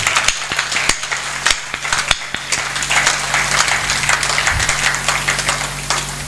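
Audience applause at a Hindi patriotic poetry recital, a dense wash of many hands clapping steadily for several seconds with sharp individual claps standing out, fairly close and loud.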